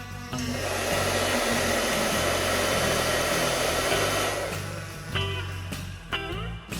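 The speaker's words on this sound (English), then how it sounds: "then take a hairdryer" A hair dryer blows steadily on a freshly placed water slide decal, a loud, close, even whoosh that holds for about four seconds and then cuts off, leaving brief handling clatter.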